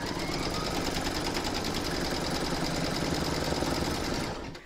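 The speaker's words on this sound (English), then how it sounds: "pop that into your machine and stitch round number five" An in-the-hood embroidery machine stitches a Courthouse Steps log cabin quilt block coaster, a steady loud mechanical whir with rapid needle rhythm running continuously, alone, until it stops near the end.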